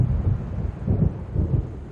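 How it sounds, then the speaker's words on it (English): Low, rolling thunder of an approaching storm in the Alan Wake video game, a continuous deep rumble that swells in a few slow pulses over a steady dark background with no voices. "It seems there's a storm coming."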